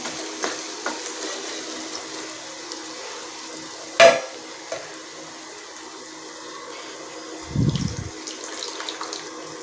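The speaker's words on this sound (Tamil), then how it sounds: "இப்போ நான் வந்து இதில் வந்து புளி கரைச்சல் சேர்த்துக்கிறேன்." Tamarind water is poured into a hot pan for anchovy fish curry, hissing and sizzling steadily, with a sharp clink and a brief low splash partway through.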